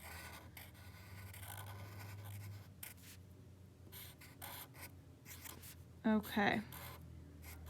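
Pencil tracing over lines on paper, a soft continuous scratching and rubbing that comes and goes, close and quiet, with a brief spoken word near the end.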